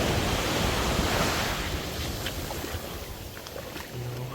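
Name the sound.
strong ocean waves on Barcelona beach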